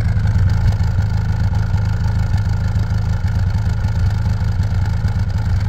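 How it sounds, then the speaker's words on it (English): A 1996 BMW Z3 with a 1.9L engine, Magnuson supercharger and performance cam idles hot with a slight sputter, giving a steady low rumble with a faint uneven clatter, close and continuous. "very slight sputter on hot idle, and it's only when it's idling"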